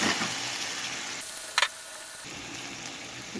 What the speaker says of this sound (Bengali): এখন আমি টমেটো কুচি দিয়ে দিচ্ছি।